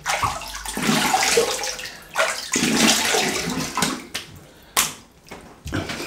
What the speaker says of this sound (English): Right, let's have a little rinse.